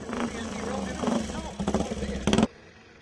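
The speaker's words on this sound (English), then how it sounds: "See the bark of that AJS. Sounds lovely." Vintage AJS motorcycle engine barking loudly through its exhaust at a Brooklands centenary event, in bursts of revving with a final sharp blip before cutting off, heard close and under the general noise of the gathering.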